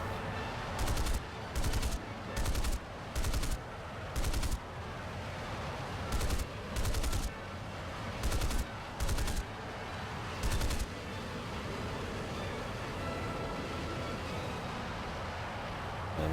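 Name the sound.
Canberra bomber's guns firing in War Thunder video game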